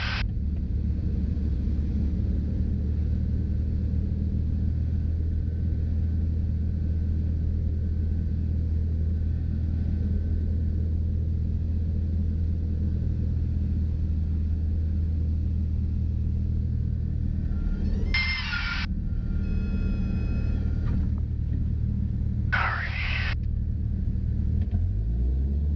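A light aircraft engine with the throttle pulled fully out during stall practice drones as a steady low rumble throughout, joined by two short high-pitched tones near the end.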